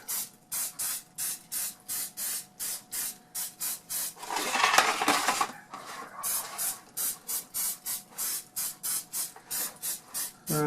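Non-stick cooking spray hits a silicone cupcake pan in a fast regular series of short close hisses, with a longer louder continuous blast partway through before the quick pulses resume.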